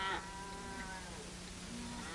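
Cattle low in a faint, drawn-out moo over steady background hiss, with no voices.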